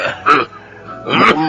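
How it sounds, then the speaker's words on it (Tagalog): Two short, harsh coughs from a person, separated by a brief pause, close and loud in a radio drama scene. "masama na yung ubo mo."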